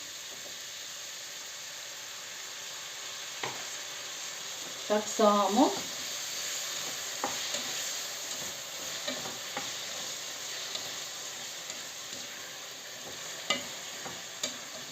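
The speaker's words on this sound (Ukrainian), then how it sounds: "І навіть так хвилинку протушиться, аби томат, томат просмажився." Meat and tomato paste fry with a constant soft hiss, broken by occasional spoon clacks and stirring; a voice speaks briefly in Ukrainian.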